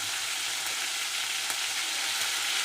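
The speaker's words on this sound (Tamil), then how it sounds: "கடுகு சேர்த்திக்கலாம். கடுகு நல்லா பொரியட்டும்." Mustard seeds crackle and splutter in hot oil in a pan, a dense steady sizzle with scattered sharp pops, close and continuous throughout, no voices.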